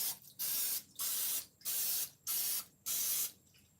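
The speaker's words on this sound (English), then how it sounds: "I'm going to spray this with some nonstick spray" Five short bursts of aerosol nonstick cooking spray onto a baking pan, each hissing for about half a second with brief pauses between, close by.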